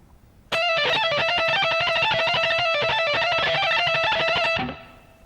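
Electric guitar plays a fast, distorted solo run at full speed, a dense cascade of bright notes that rings out alone and fades at the end.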